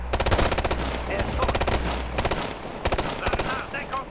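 Rapid bursts of automatic gunfire in the game Ghost Recon: Future Soldier, several loud close volleys of machine-gun shots separated by short pauses, with faint voices in the background.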